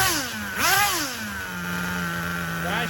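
An HPI RS4 RTR3 nitro RC car engine screams close by, its pitch sweeping up and down through a quick rev before settling into a steady high whine, then climbing again at the end.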